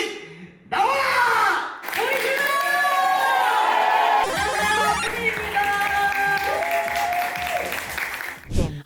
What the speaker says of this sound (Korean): 큰 박수와 큰 환호로 후비님을 맞이해주시면 진심으로 감사드리겠습니다.